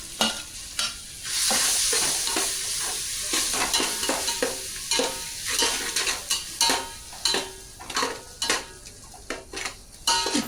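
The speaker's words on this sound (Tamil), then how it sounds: "போட்டு நம்ம மாங்காய் போட்டு நல்லா வதக்கிடுங்க." Raw mango pieces and green chillies are stir-fried in a pan, a loud close sizzle broken by repeated scraping and clanking strokes of a spatula against the metal, with no talking.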